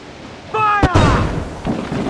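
Ship cannon fire in Assassin's Creed IV Black Flag: one sharp, heavy boom close up, with a second fainter thump after it, over steady battle noise and a brief shouted voice.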